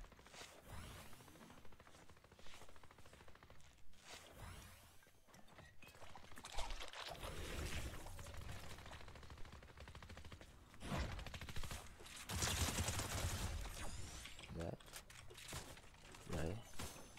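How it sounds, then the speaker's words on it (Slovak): Bursts of gunfire crackle in intermittent volleys, some dense and rapid, mixed with other game noise and occasional talking. "Počujem, že zase tu je strieľa."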